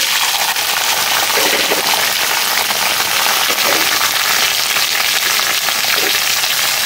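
Vegetables fry in a pan on an induction cooker, a loud, steady hiss and crackle of sizzling oil that continues unbroken throughout.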